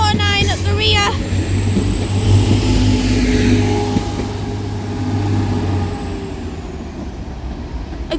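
Transpennine Express diesel train pulling away from Manchester Oxford Road, a deep steady engine hum building then slowly easing, with a brief squeal at the start and a faint high whine overhead.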